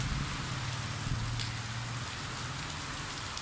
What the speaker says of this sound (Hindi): बारिश होना शुरू हो गई